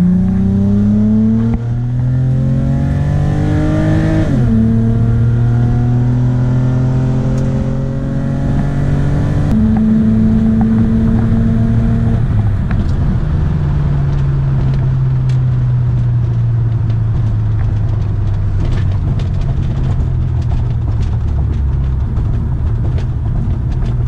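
A 2005 Nissan Altima SE-R accelerating at roughly three-quarter throttle, the engine note climbing through several gears with clear drops at each shift, loud and steady from inside the car.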